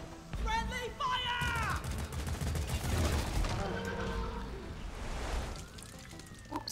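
Bursts of friendly gunfire from a co-op session of the Deep Rock Galactic video game, rattling on under excited player voices, with music and other game effects mixed in.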